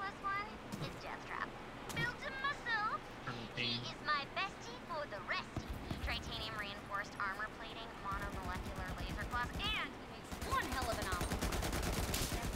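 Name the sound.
grenade explosion and gunfire in a video game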